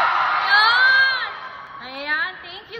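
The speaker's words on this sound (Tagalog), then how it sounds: "Isang malakas na sigawan" A crowd at a beauty pageant homecoming event for Emma Tiglao shouts and cheers loudly, with high whooping and screaming voices rising and falling across a couple of seconds.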